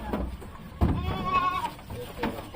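Beetal goats bleat at a goat farm, several wavering calls in quick succession, close and fairly loud over soft background noise, with no talking.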